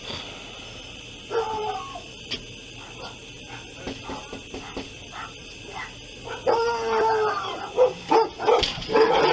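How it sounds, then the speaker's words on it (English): Several dogs bark and yip in scattered bursts at middle distance, with whimpers and a few sharp yelps, growing busier toward the end. "She got some dogs in there too somewhere."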